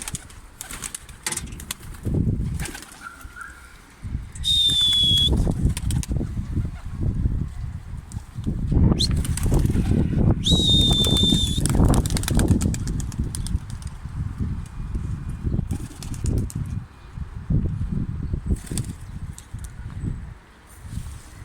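Birds flap their wings in repeated close, loud bursts of fluttering, mixed with a few brief high chirps and whistles, with no talking.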